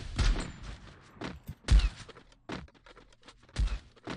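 Gunfire in the mobile battle royale game Free Fire: several loud, punchy shots in separate bursts spaced about a second apart, with no talk over them.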